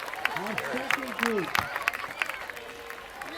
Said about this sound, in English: Give a nice hand, and the crowd is welcoming them to a new season of soccer.